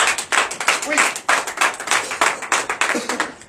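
A church congregation claps in quick, uneven bursts during morning prayer, fairly close, with a voice briefly speaking over it.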